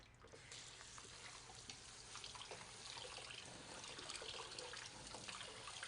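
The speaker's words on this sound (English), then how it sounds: "And then I'm going to rinse it in some cold water" Cold tap water runs steadily into a kitchen sink while freshly made ramen noodles are rinsed, a constant hissing splash at moderate level with no talking.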